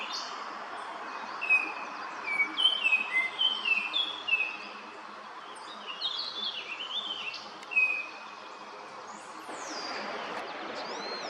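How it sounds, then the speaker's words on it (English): Several birds sing outdoors in bright, chirping phrases, some clustered in quick runs and others coming as isolated whistles. A soft background hiss runs underneath, and the song is moderately near and fairly faint. "Many other birds were seen and heard during this visit."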